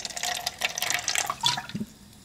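Water pours into a small cup holding a pebble to feed pepper plants, a continuous splashing trickle lasting a couple of seconds before tapering off, close and fairly soft with no talking.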